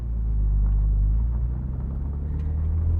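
A 1999 BMW Z3 M Roadster pulls away, its engine a loud, deep, steady rumble close by that swells slightly at the start and then holds even.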